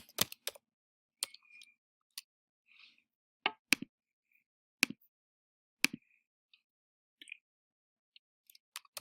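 Sparse, crisp clicks of a computer mouse and keyboard keys, isolated taps spaced irregularly with short pauses between, close and quiet in an otherwise silent room.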